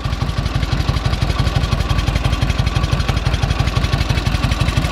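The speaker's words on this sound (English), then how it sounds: "just let it idle out so there's not gas in the fuel lines anymore" A 1946 Indian Chief antique motorcycle engine idles up close, a loud, steady, rhythmic low thumping with metallic clatter on top.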